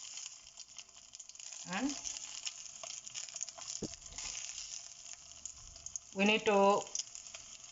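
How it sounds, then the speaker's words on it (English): Stuffed brinjal frying gently in oil over a low flame, a steady soft sizzle running throughout beneath a voice that speaks in short bursts. "we need to fry them on low flame only"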